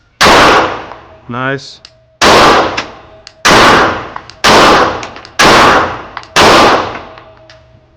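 Shadow Systems CR920XP pistol fired during a break-in session: six sharp, loud shots spaced roughly a second apart, each with a short ringing decay, with a brief spoken word between the first two.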